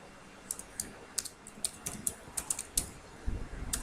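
Keys clatter on a computer keyboard as a column name is typed, a quick irregular run of about a dozen crisp, close clicks over a quiet background.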